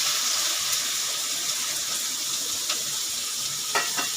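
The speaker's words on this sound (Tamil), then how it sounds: "இப்போ இந்த வெங்காயம் நல்ல கோல்டன் கலராக ஃப்ரை ஆகணுங்க" Chopped onions and green chillies frying in a pan with whole spices for chicken seekh kabab gravy, a steady hissing sizzle throughout with a few faint stirring taps near the end.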